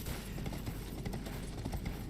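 Horse hooves clip-clop steadily in Elden Ring, a continuous stream of soft hoofbeats over a dense game backdrop with no talk.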